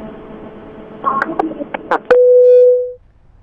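A telephone line after a caller's call drops: a few clicks and bits of muffled noise, then a single steady electronic tone that holds for about a second before cutting off.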